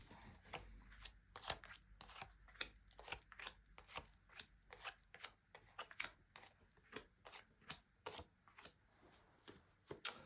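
Rapid crisp riffling and tapping of tarot cards being shuffled, in quick bursts close to the listener, with no talking.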